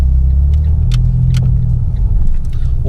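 Modified Fiat 500 Abarth driving, its engine a loud, deep, steady rumble up close with road noise and small clicks over the drone, no voices.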